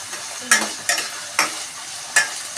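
Vegetables are sautéed in oil in a pan, heard as a soft sizzle punctuated by four brief scraping stirs, close up with no talk.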